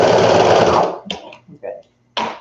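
Sewing machine running steadily for about a second while stitching baby ruffle bloomers, then stopping, followed by a few short bursts of handling or soft voice sounds.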